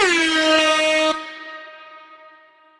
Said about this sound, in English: The air horn is my new thing for public service announcements.